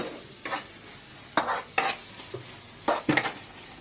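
Mushroom masala cooking in a pan, with a few short, scraping stirring strokes spread across the clip over a faint background sizzle. No voices are present.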